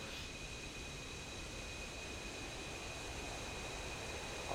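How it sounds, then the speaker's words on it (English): A pair of F-15 jets taxiing in DCS World, a steady broadband jet-engine roar with a thin high whine held evenly throughout, moderately distant and constant. "Check out the pair of F-15s taxiing by."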